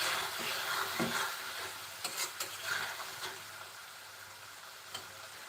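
Prawn curry for a Bengali prawn bhuna sizzles steadily in hot oil, a continuous close hiss broken by a few soft stirring scrapes and light clicks against the pan.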